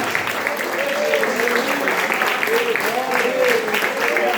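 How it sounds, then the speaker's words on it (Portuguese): A church congregation claps at length in steady, dense applause, the crowd close and loud, while a preacher's voice calls out over the clapping. "Dê uma salva de palmas para o Senhor Jesus."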